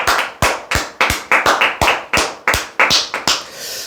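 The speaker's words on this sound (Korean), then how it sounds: "박수 한번 치세요." Distinct hand claps at a call-centre staff gathering, with a dozen or so sharp, close, slightly uneven claps in a quick rhythm and no talking.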